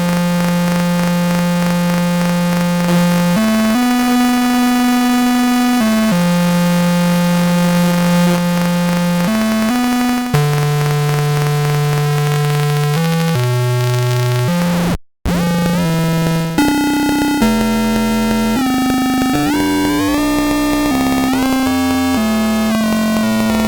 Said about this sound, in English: So let's put on over here on a square wave.